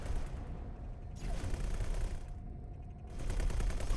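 Ship weapons fire in X4 Foundations, shredding a defense platform: rapid mechanical rattling bursts with a gap between volleys, steady and moderately loud with no talking.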